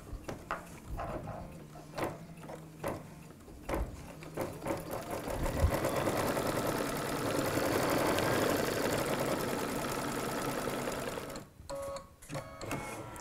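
An embroidery machine stitches out a design, giving a steady, loud mechanical whirring that runs continuously through the middle, with scattered thumps and clicks before and after it.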